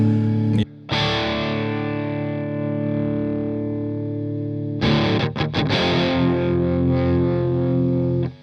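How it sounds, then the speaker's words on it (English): A heavily distorted electric guitar through an Orange Tour Baby / Dark Terror amplifier with gain and overdrive up rings out in sustained chords, loud and saturated, with a brief gap before a second strummed passage. "when I'd have the gain up, I'd use the overdrive"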